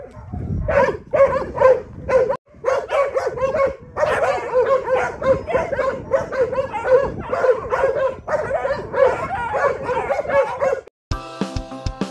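Several large dogs bark, yip and whimper loudly and continuously in rapid overlapping bursts, with a brief pause partway through and a short sharp noise at the end.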